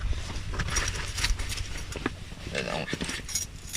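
Car keys for a Mazda RX-8 jangle and clink in short, bright metallic bursts, close by and fairly steady, with a brief rustle partway through.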